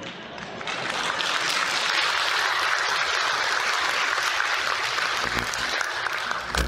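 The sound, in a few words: audience applauding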